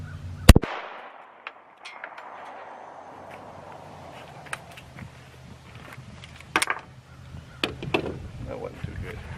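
A sharp, loud .45 ACP 230 grain full metal jacket round cracks once near the start, followed by a ringing decay and a few fainter outdoor knocks and thumps.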